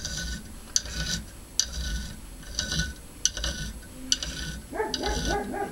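A scraper rasps metal particles out of the teeth of a round hand file in quiet, evenly spaced strokes, roughly seven of them, each with a small sharp click.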